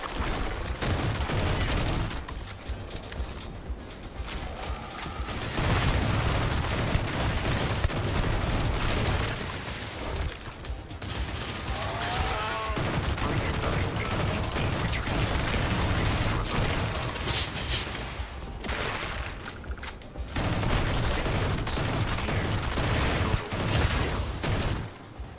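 Sustained weapon fire against aliens in a video game, long dense bursts of rapid shots with booming impacts, broken by a few short gaps, loud and continuous throughout.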